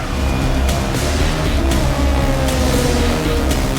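A pack of endurance race cars roars off the start at Portimao, engines droning loud and steady in a dense, layered growl with pulses of rising revs as the field pulls away.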